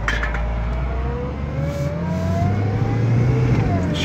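A Toyota Celica engine accelerates steadily on an early morning drive, a continuous near mid-pitched drone with rising harmonics climbing through the gears, loud and unbroken with no talking.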